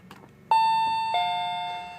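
A wireless radio-frequency doorbell chimes loudly at close range in two bright tones, a ding then a dong, each ringing on and slowly fading, with faint background noise before the first strike.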